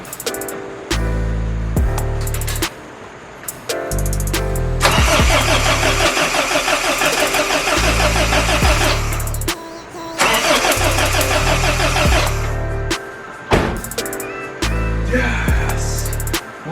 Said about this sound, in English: I'm just trying to get the starter to engage. I know if it engages, the truck will start.